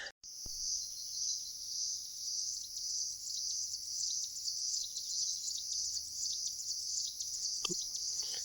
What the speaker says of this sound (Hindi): शांति का शोर। ऐसा शोर आपको मिलेगा नहीं कहीं। पक्षियों का, चिड़ियों का, झींगुरों का, करौली का।